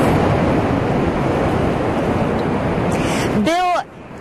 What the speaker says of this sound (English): these waves are pretty intense